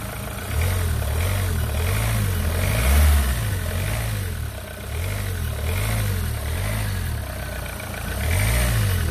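Renault Clio 3 engine being revved gently after an alternator fault, a close steady hum that rises and falls in repeated swells of light throttle.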